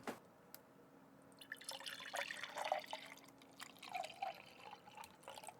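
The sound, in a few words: pouring a drink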